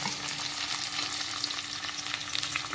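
Tomatoes frying in a hot pan for Mangalore-style chicken sukka, giving a steady, close sizzle that runs without a break and with no talking.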